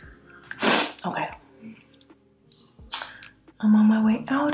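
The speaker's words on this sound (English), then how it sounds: "I have to sneeze" One loud, close sneeze bursts out near the start. Quiet breathing and small mouth sounds follow, then someone speaks briefly.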